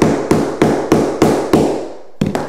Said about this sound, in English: you can use a rubber hammer.